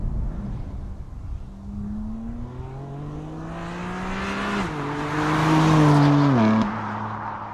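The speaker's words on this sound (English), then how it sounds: "In stock form, this engine sounds great." A BMW M4 F82 with the S55 engine drives hard, rising pitch through the revs with gear changes, growing louder as it builds, then a brief harsh peak before dropping off.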